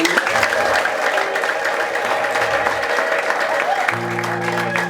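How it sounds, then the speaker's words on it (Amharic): A church congregation claps for the Lord during a preaching service, dense sustained applause with faint ululation and voices mixed in, loud and continuous throughout. "ለጌታ የእልልታ ጭብጨባ"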